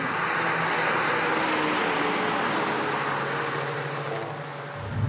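A VW Golf GTI Performance drives at speed on the Nürburgring Nordschleife, producing a loud, steady roar of engine, tyres and wind that eases slightly near the end.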